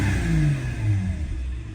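A white Volkswagen Golf 3 with a VR6 engine and about 130,000 km revs up nearby. Its mid-pitched engine note rises and falls over a couple of seconds.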